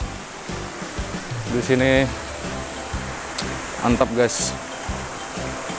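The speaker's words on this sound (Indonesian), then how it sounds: "Jadi view-nya ada itu air terjun juga." The Jembong waterfall at Ambengan gives a steady broad rush of falling water in the background, heard under a voice and other people talking nearby.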